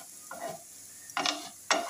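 Food fries in a pan, with soft bursts of sizzling and stirring heard close and quiet, three short flurries with gaps between.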